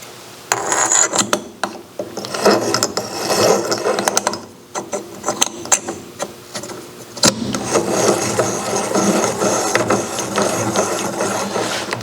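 A metal shaper ram cutting internal splines clatters and scrapes in repeated rough strokes, with mechanical chattering and rasping that fade briefly before resuming, loud and close.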